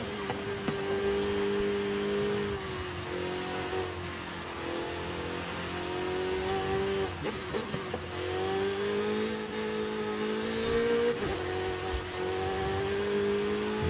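A Porsche race car engine in Forza Horizon 5 revs and shifts through gears on a demanding track, a close, sustained tonal drone that rises and drops with each gear change.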